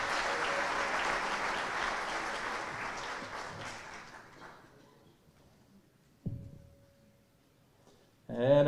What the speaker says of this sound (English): Give everybody a round of applause for Austin,